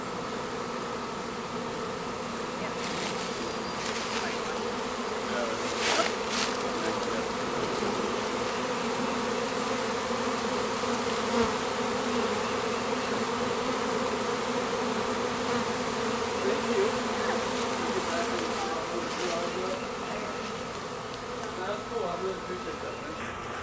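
A honey bee swarm moving into a hive fills the air with a dense, steady buzzing hum that stays loud and continuous throughout, with people talking faintly in the background.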